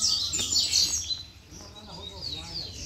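A caged coleiro (double-collared seedeater) songbird gives bright, rapid chirps and short song phrases close to the listener, with people talking quietly underneath.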